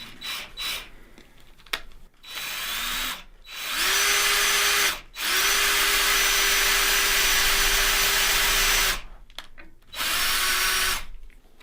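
Power drill boring out a hole for a rubber pool table drop pocket, several loud whining bursts of a few seconds each separated by brief pauses, close up with no talk.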